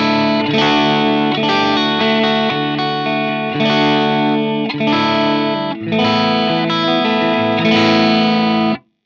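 Electric guitar through a KSR Amps Eros Boost pedal switched to clip mode, gain stage clipping into a crunchy distorted tone; loud strummed chords ring out and are restruck every couple of seconds before cutting off.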